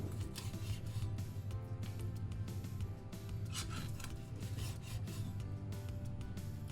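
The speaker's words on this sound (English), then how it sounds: "we're gonna fillet this fish" A knife slices a red snapper diagonally into thin pieces, giving steady close rasping, rubbing strokes in a continuous run with no talk.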